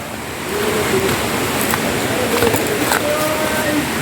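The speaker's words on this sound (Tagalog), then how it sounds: "So ito yung batis." A stream flowing through a deserted river area lined with bamboo gives a steady, broad rush of water that swells slightly after the first half-second and holds fairly loud throughout.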